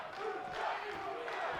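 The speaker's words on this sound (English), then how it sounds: "You hear those sections of the crowd chanting Lucha." Crowd in a WWE 2K18 wrestling match chanting "Lucha" from sections of the arena, a continuous rumbling roar of many voices with a faint rhythmic chant woven through the steady noise.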